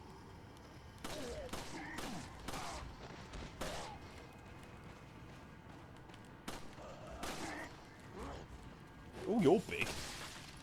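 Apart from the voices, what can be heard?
gunshots from the video game Resident Evil 4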